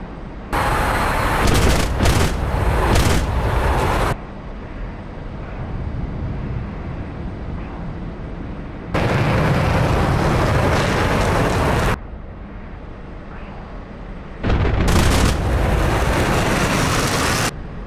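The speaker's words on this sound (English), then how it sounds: "pull the trigger all the way in for both of the cannons" Loud bursts of rapid twin-cannon fire from a MiG-15bis in the DCS flight simulator, in long sustained volleys separated by quieter stretches of engine rumble, with a harsh, dense game-like roar.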